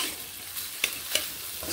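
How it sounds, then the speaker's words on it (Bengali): Chicken patty filling sizzles steadily in a pan while a spoon scrapes and stirs it, with two sharp clinks of the utensil against the pan standing out above the continuous hiss, close and fairly quiet, no talking. "এইভাবে আর কয়েক সেকেন্ড কষিয়ে নিচ্ছি।"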